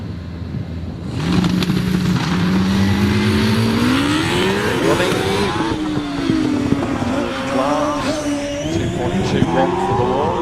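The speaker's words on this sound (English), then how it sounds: "it is Jack Cottrell, the modified Formula 3 Dallara, with his Cosworth V8 in the back" A modified Formula 3 Dallara race car with a Cosworth V8 in the back launches up a hillclimb course, its engine revving hard and climbing in pitch through gear changes, loud and close, while a commentator talks over it.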